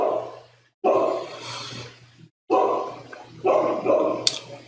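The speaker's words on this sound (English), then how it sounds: "it's getting hard to concentrate with the dog barking." A dog barks in repeated sharp bursts indoors, loud and close, separated by short silences, over a low steady hum.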